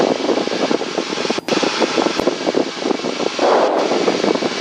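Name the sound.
light airplane engine during a climb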